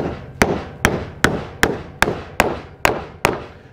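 A hammer strikes a wooden block eight times, tapping a trailer wheel bearing seal flush, in a steady, evenly spaced rhythm, each tap sharp and close with a short ringing decay.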